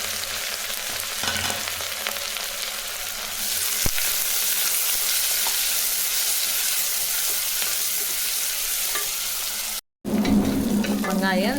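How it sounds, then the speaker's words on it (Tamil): Sliced large onions sauté in a pan with spices, making a continuous sizzle that swells louder after a few seconds, with faint stirring scrapes and a brief cut near the end. "வெங்காயம் இந்த அளவில் வதங்கினா போதுங்க."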